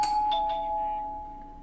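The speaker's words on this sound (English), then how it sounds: "So that calls the elevator, even though it's a doorbell." Bright two-tone doorbell chime in Minecraft, used to call an elevator: a clear ding-dong struck once near the start, its tones ringing on and slowly fading over the following second.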